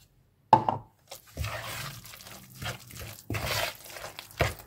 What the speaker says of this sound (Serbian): I idemo sada sa dodavanjem vode.